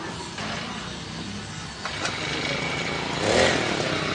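A Vitu Mauli farm engine runs steadily up close, a loud continuous mechanical drone with a slight rise in intensity near the end.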